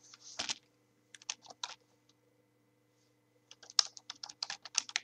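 Typing on a computer keyboard while writing a FORTRAN subroutine, quiet close key clicks in short bursts, a pause in the middle, then a quicker run of taps.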